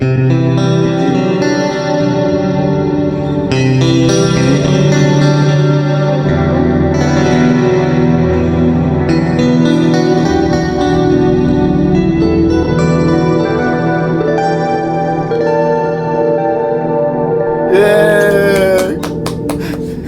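Electric guitar run through a wild amp simulator plugin with heavy, warped effects, smeared distortion and shimmering modulation; it plays continuously and loud, ending in a bright, wobbly squeal.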